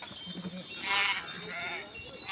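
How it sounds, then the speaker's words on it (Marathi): Sheep from Balu Mama's flock bleat while drinking water during a palkhi procession in Parner, with one clearer bleat rising midway over a steady outdoor hubbub. "आता मेंढ्या पाणी पित आहे"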